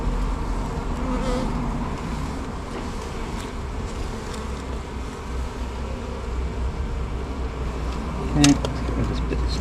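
Bees swarming in a bin while a hive is being removed, producing a dense, steady droning buzz up close that carries on without a break, with one brief louder buzz near the end.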